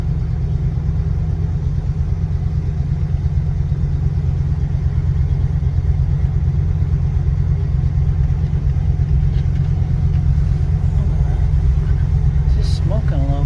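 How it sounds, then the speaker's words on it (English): A Pontiac Ventura engine, run after sitting for three years, runs with a low, steady rumbling chug at close range, a continuous throbbing drone with no pauses. "I think it's starting to chug a little bit."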